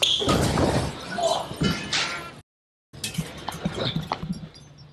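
A person rams their body into the door of a shipping container home, giving heavy thuds and rattling bangs. Excited voices and shouting run over the impacts, and a brief silent gap splits the sequence.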